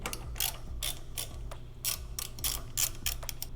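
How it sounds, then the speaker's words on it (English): A ratchet with a 6mm hex bit on an extension loosens an exhaust bolt on a Ducati Panigale V4 motorcycle, giving close, repeated bursts of rapid clicking separated by short pauses. "we're gonna take a 6mm hex with an extension and a ratchet and remove this bolt right here"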